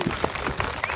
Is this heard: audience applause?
yes